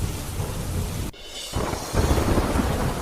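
Heavy rain driven by strong wind in Veraval pours in a dense, steady roar, broken by a short abrupt gap before resuming even louder.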